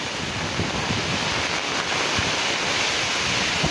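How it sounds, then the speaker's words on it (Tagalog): Strong wind from Super Typhoon Nando roars steadily across the microphone over rice fields, a continuous dense rush with occasional low buffeting thumps, loud and unbroken with no voices. "Lakas ng hangin."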